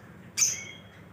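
A single sharp chirp from caged pet birds at a breeding farm, short and fairly close, rising abruptly over faint background hum.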